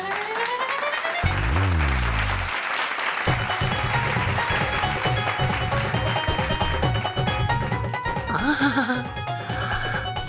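Bright canned applause and cheering from a Hindi children's fantasy TV show swell over a busy musical sting, loud and continuous, with brief whooshing effects.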